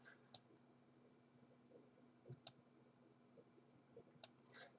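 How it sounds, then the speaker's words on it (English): A computer mouse gives a few faint, sharp clicks spaced a couple of seconds apart against a quiet room background. "stop double clicking"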